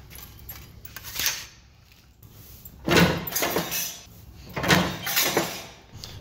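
A Beverly shear cutting sheet metal: two main bursts of harsh metallic crunching and shearing, each a second or more long, with lighter clicks and handling noise between them, close by.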